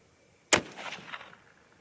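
A single sharp rifle shot firing a 100 grain Nosler ballistic tip round loaded with Varget powder, a 6.5 Creedmoor or .243 Win, cracking loud against near silence and followed by a rolling echo that fades within a second.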